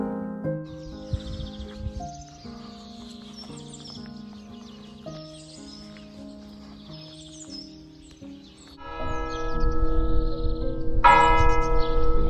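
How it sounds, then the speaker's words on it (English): A church bell in Coca, Spain tolls in slow, steady strokes, growing louder and fuller near the end, with birds chirping faintly in the background. "The bell was giving me a lovely send-off now as I'm leaving Coca"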